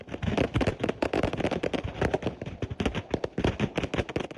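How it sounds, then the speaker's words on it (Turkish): Fireworks loaded on a burning tractor-trailer go off in rapid, irregular bursts, a dense string of sharp cracks and pops that keeps coming without a pause and with no voices. "Yanan tırdaki havai fişeklerin birer birer patlaması"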